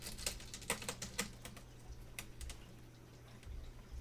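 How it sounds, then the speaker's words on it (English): Quick runs of light plastic key clicks and taps from an old laptop keyboard being worked loose, close and fairly soft, thinning out to a quieter stretch near the end over a steady low hum. "Keyboard removal"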